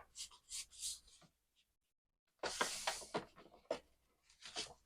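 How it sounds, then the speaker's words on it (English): Paper rubs and creases as a file folder is folded along a score line, in two bursts of close scraping and crinkling separated by a brief silent gap. "we're going to fold the same way."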